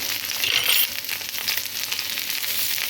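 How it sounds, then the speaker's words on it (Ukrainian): Eggs fry in a pan while breakfast is cooked, giving a steady, close hiss of sizzling fat that runs evenly from start to finish, with no talking. "Ви так смажите яйця мабуть"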